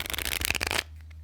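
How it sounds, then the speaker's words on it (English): A Bicycle deck of playing cards is shuffled close up, giving a quick fluttering riffle of rapid card snaps that stops abruptly, followed by near silence with a low hum. "We'll shuffle it up"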